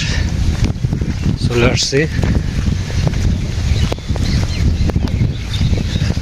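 Wind blowing outdoors at a village home, a steady rushing noise against the microphone throughout, with brief talk and a bird call partway through.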